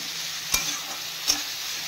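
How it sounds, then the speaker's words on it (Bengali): Fish sizzles steadily in a pan with coriander and cumin while being stirred together with vegetables, two brief scraping strokes of the spatula over the constant frying hiss. "ধনে আর জিরা দিয়ে ভালো করে মাছটাকে ভাজা ভাজা করে কষে নিলাম মশলাগুলো সবজির সাথে"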